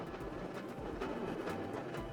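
A little train car in The Sims 4 video game rolls past in Newcrest with a steady, low rumbling clatter and faint rhythmic clicks, distant and continuous throughout.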